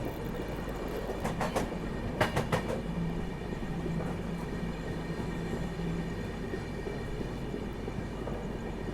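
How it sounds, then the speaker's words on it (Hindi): A CR Rajdhani Express approaches at speed on an Indian main line, a steady rolling rumble with rail clatter and a few sharp clicks, heard from a moving train without any voices. "सामने से आ रही है CR राजधानी।"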